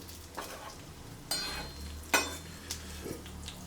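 A spoon stirs beef stew in a pot, giving a few soft scraping strokes and light clinks over a low simmering hiss, close and quiet with no talking.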